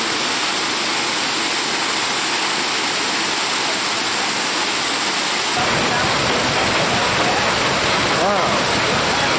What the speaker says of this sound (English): allow water to flow down onto the flutter wheel